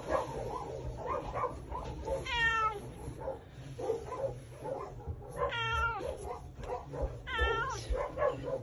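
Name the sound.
cat meowing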